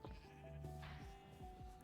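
Sheep bleating in TerraFirmaCraft, a single wavering bleat heard up close and fairly faint, with no voices.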